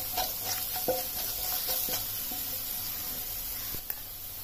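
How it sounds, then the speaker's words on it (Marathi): Salt, ajwain, turmeric and cumin-coriander powder fry in a pan while being stirred. A soft steady sizzle runs throughout, with faint scraping clicks from the stirring, quiet and close. "मीठ, ओवा, हळद, जिरे धने पावडर, हे थोडंसं फ्राय करायचं आहे."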